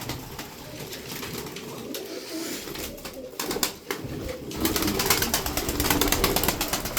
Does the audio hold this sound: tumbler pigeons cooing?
yes